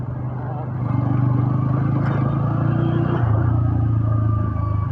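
A steady low engine drone from an N160 motorcycle cruising slowly down an empty road, even and close throughout with a slight dip in pitch near the end and no talk over it.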